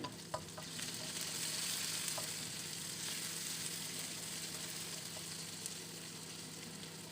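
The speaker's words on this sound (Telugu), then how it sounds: "ఆనియన్ ముక్కలు కూడా వేసి వేయించుకోవాలి" Onion pieces frying in a pan with salt, after cumin seeds, for paneer fried rice: a steady close sizzle throughout with occasional stirring clicks and no talking.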